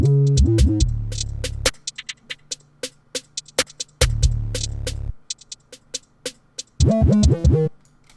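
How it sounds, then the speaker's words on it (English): Gritty, distorted 808 bass notes sliding and booming in short phrases under a sparse UK drill beat of sharp clicks and hi-hats. "if you wanted to bring out the mids a bit, we can add the distortion"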